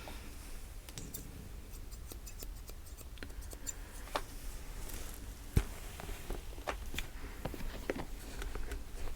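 Soft, sparse snips of scissors cutting hair in a salon, crisp clicks scattered over a low steady hiss, close and quiet, with no talk.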